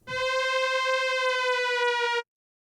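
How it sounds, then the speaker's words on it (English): A steady siren-like synthesizer tone from Omnisphere with a rich stack of harmonics sounds continuously for about two seconds, loud and close, then cuts off abruptly into silence. "we're going to end up with like a siren now"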